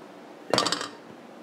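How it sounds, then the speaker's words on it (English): Dough goes into a greased bowl with a brief, close clink and knock of the bowl, a short cluster of hits that lasts well under a second. "take it all out and put it into this grease bowl"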